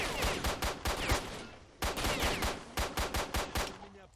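Pistol shots in S.T.A.L.K.E.R.: Shadow of Chernobyl ring out as a rapid, loud series of sharp reports, split into two volleys by a brief pause.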